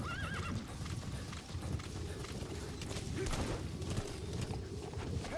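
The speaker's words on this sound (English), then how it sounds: "And now call D-Horse in again." D-Horse answering a call in Metal Gear Solid V, a whinny ringing out at the start followed by steady clip-clopping hooves and faint creaking tack, close and clear.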